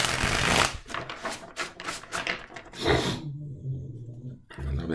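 Tarot cards being shuffled by hand in a rapid, papery riffle lasting a few seconds, followed by a quieter pause and a short closing burst of card noise, close and fairly loud with no talk.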